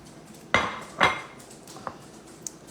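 Pizza lands on a plate with two crisp clinks of crockery close by, then a few fainter taps and knocks in a quiet kitchen.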